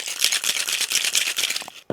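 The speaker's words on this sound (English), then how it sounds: "Ice our tin and shake." A Loch Lomond cocktail of Drambuie, Cointreau and lemon juice shaken hard with ice in a metal tin: steady, rapid rattling of cubes for nearly two seconds, close and loud, ending in a brief pause and a final knock.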